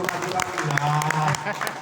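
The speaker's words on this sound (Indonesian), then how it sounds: "Tepuk tangan mas" Church audience clapping during a Batak Christian sermon, a brief burst of applause mixed with a voice speaking over it.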